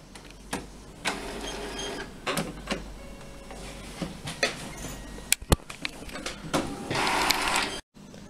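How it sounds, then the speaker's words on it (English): Epson printer powering on, with a series of mechanical clicks, whirs and carriage movements spaced irregularly at close range, ending in a sharp cut. "turn on the printer,"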